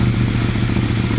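Loud, close revving from a CFMOTO motorcycle engine, a dense continuous mechanical roar with rapid pulsing that runs the whole short stretch without any voice.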